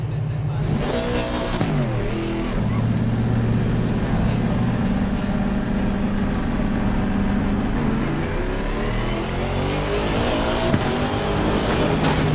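Simulated Aston Martin race car engine in a racing game, accelerating in first gear with a steady, loud rising whine and rich harmonic drone, a brief dip and surge early on, then climbing revs sustained across the whole stretch with no talking.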